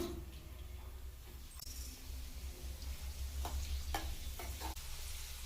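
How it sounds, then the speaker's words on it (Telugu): Quiet, steady sizzle of tempering seeds frying in hot oil with dried red chillies, with a few sharp pops and crackles and a faint low hum underneath. "వేడెక్కింది పోపు గింజలు వేస్తున్నాను"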